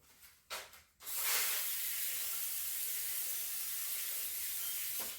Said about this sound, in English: I'm going to spray this off real quick